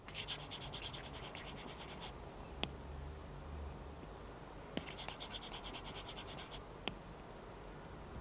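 Apple Pencil tip scratching across a Paperlike matte screen protector on an iPad Mini, with two bursts of close, dry, paper-like scraping strokes separated by quieter gaps and a few soft taps.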